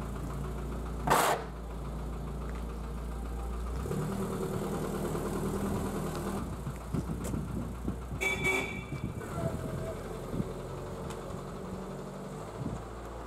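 Austin A40 pickup truck pulling away: a low engine rumble is heard briefly at first, then grows quiet and distant, with a few faint clunks after.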